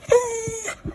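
A dog gives a short, high, nasal whimper, close and clear, against a quiet room background.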